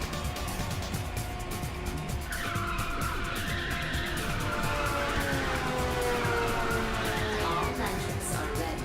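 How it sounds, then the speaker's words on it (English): Tire squeal from a car drifting in the racing video game Ridge Racer 6, a sustained sliding screech over a steady engine drone. "Nitrous activation during drift confirmed."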